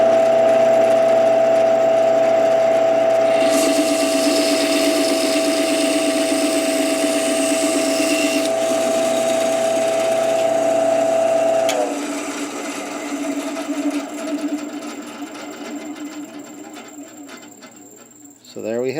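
A wooden finial blank is cut on a steadily running machine with a constant tonal hum. The cutting adds gritty, varying texture, then the pitch drops and the sound fades as the cut finishes.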